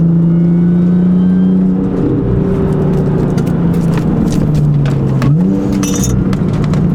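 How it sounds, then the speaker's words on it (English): An Audi S4 running a ported blower pulls hard under acceleration, a loud close engine drone with rising and shifting pitch, blower whine and road rumble, and no voices. "Ever since we fixed this car, it sounds so good and just drives amazing."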